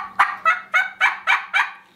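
An ocellated turkey gives six evenly spaced, close, loud gobbling calls in quick succession, each a short ringing burst before the last one fades.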